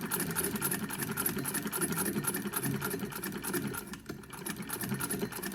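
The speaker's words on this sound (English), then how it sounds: "we can just continue sewing until it spits it out the back" A sewing machine with a binder foot attachment runs steadily, feeding bias binding through in one continuous, fairly loud mechanical hum with a brief dip near the end.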